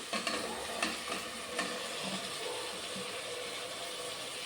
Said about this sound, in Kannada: ಹುರುಳಿಕಾಯಿ, ಕ್ಯಾರೆಟು, ಆಲೂಗೆಡ್ಡೆ ಮತ್ತು ಕೋಸು, ಅದನ್ನು ಫ್ರೈ ಮಾಡ್ಕೊಳಕ್ಕೆ ಹಾಕೋತಾ ಇದ್ದೀನಿ